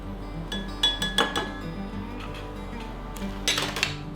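Glass jars and dishes clink and knock in quick clusters while a pickled egg is fetched from a kitchen jar, with a few sharp rattles, a pause and then another burst of clinks.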